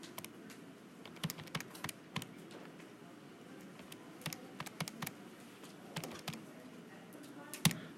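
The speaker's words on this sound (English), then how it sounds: "Hit the buttons on your calculator." Calculator buttons pressed in a series of quick, light clicks, scattered in small clusters over a quiet room background with no talking.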